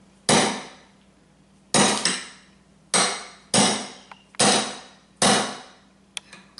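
Six sharp, separate strikes from a rubber mallet drive a roll pin into an AR-15 bolt release, landing roughly a second apart with quick decays and a faint workshop hum between blows.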